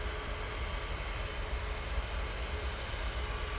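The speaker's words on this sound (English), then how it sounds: "Next out will be Jet2 A321neo" A Jet2 Airbus A321neo takes off at Manchester Airport, its engines a loud, steady, broadband roar that stays constant throughout the short stretch.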